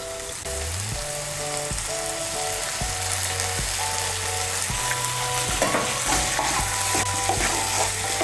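Masala with green peas and salt is stirred and fried in a pan, producing a steady hissing sizzle under repeated clinking, scraping strokes of a spoon against the metal.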